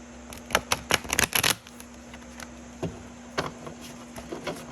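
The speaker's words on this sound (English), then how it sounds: "so I'm going to try to shuffle these" Tarot cards being shuffled: several sharp papery snaps and riffles in a quick burst, then a few scattered softer flicks of cards, close by in a quiet room.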